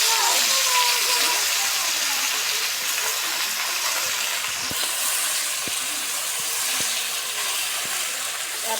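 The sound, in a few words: Malabar spinach (pui shak) cooking in a pan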